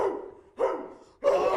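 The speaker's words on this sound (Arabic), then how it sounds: "يا بابا الكلب يجي." A dog barks three times in quick succession, each bark sharp and fairly close, with short quiet gaps between them.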